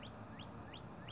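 A robin repeats a short rising chirp four times at an even pace, faint against a low background rumble.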